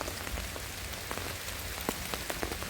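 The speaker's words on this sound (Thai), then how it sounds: "ฝนตกพี่น้อง" Steady rain patters on leaves and ground in a forest during mushroom picking abroad, with scattered louder drops striking nearby over a continuous wash of falling water; no voices.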